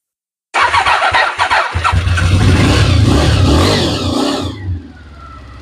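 A Honda VFR 750 V4 motorcycle engine cranks in a few short bursts, then catches and runs loud and close at a steady idle with some revving, fading slightly at the end.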